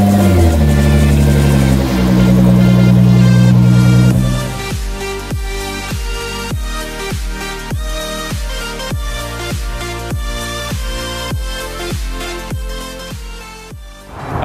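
A 2010 Nissan GT-R running without its cat-back exhaust roars loud and raw, holding a rough, droning note for about four seconds before music with evenly spaced notes takes over.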